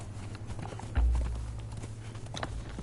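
Horse hooves clip-clop in the survival game Conan Exiles, a steady, close series of hoofbeats over a low ambient drone, with one heavier thump partway through.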